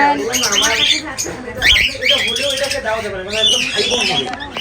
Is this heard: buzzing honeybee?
no